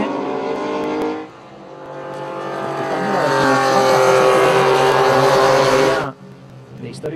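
A historic endurance race car, number 155, on the Jerez de la Frontera circuit in 2019, its engine roaring loud and close with rising revs and a shifting tone before cutting away, under the muffled sound of a commentator.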